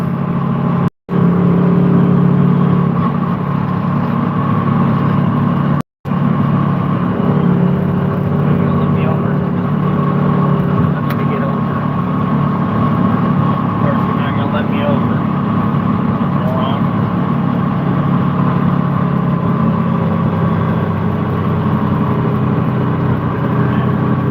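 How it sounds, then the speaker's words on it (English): A pickup truck fitted with both a turbo and a supercharger, its engine droning and whirring loudly and steadily at close range, with a couple of brief dropouts. "this truck has a turbo and a supercharger on it."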